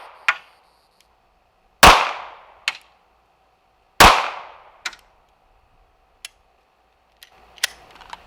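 A Ruger Security 9 pistol fires underpowered Gila 9mm rounds at a range, two sharp loud shots with decaying echoes about two seconds apart, followed by scattered faint clicks and clinks, and no talking.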